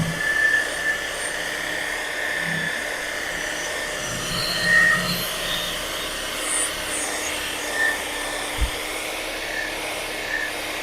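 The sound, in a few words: power buffer polishing metal flake gel coat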